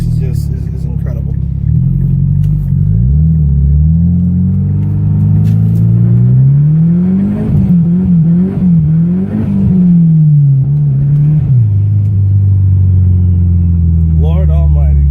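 A built S300SX car's engine roars during snow donuts, loud and close. The revs rise and fall in a long sweeping surge, then settle to a throaty idle, with some talking over it.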